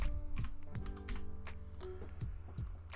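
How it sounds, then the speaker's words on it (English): Typing on a computer keyboard while entering a name in TinkerCAD: a quick, uneven run of close, soft key taps and clicks over a low background hum, with no talking. "So let's go back, backspace, and type in my name."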